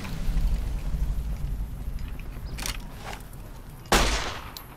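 Pistol gunshots in the video game Fallout New Vegas: a couple of sharp, fairly close cracks, the last one loudest, rising out of a steady low rumble of game ambience.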